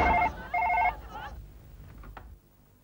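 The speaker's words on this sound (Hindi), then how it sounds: "ये फोन आ रहा है।" A telephone rings with two bursts of a bright electronic trill, then cuts off, leaving quiet room sound with faint speech.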